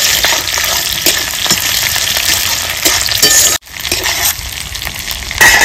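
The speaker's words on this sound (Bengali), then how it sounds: "পেঁয়াজটা বেশ ভাজা ভাজা করে নিয়েছি।" Chopped onions sizzle loudly in hot oil in a pan for a village-style desi chicken curry, with continuous frying hiss and the scrape and clink of stirring, briefly dropping out once.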